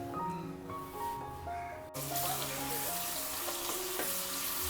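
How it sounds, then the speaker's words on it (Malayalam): Onions frying in a pan for a home-style Kerala fish curry, a steady dense sizzle close up that continues without a break. "അപ്പോൾ അത് നമ്മൾ ഉള്ളി വറക്കാണ്"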